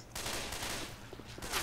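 Rapid pistol shots in Left 4 Dead 2, a quick close burst of cracks filling the short moment without talk.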